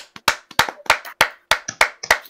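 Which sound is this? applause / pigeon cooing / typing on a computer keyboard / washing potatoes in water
applause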